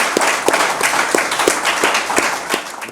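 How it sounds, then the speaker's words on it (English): An audience at an environmental awards ceremony in Connecticut claps in a brisk, dense burst of applause, close and steady for a few seconds before tapering off. "Please give a round of applause."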